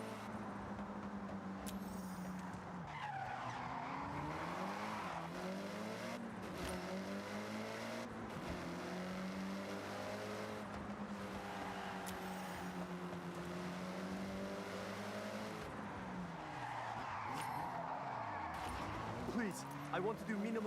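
Rally car in the Forza Horizon 6 racing game driven off-road over loose gravel and dirt, a continuous engine drone rising and falling through the gears with occasional tire noise, under a person talking.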